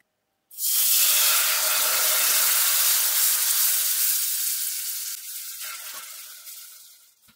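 Roux stirred in a hot pan erupts into a sudden loud, close sizzle that holds strongly for several seconds, then gradually fades and crackles out.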